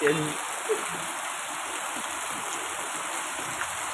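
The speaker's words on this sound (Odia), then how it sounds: "ବର୍ଷାଟା ହେଲା ତା ଭଲ ହେଇଗଲା ବର୍ଷା ଏଇଟା ଝଡା ବର୍ଷା" Heavy stormy rain pours in a dense, steady hiss, loud and continuous throughout with no clear speech.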